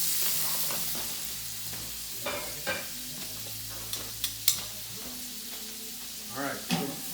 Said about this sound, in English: This is top sirloin. And we're going to let those brown a little bit.